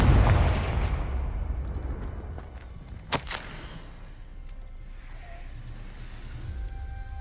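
A Confringo fire spell bursts in Hogwarts Legacy: one sharp, loud blast midway through, over a steady low rumble of game ambience with faint tones afterward.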